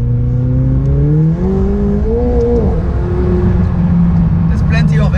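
A brand new McLaren 720S accelerating hard, its engine note climbing steadily and loudly from inside the cabin, with a gear change midway and the revs building again.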